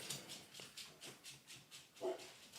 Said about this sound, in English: so one of my dogs might also get triggered, so just be careful. Watch your ears.